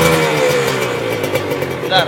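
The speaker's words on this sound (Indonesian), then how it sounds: "Ini katanya harus di-blayer digas-gas. Tahan gas." A Yamaha Krypton two-stroke motorcycle engine revs steadily and loudly at close range while being held on the throttle, with a voice speaking over it.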